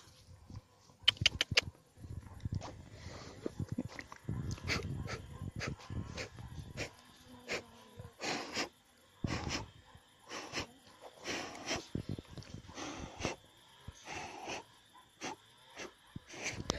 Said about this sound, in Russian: Уже скулит, домой просится.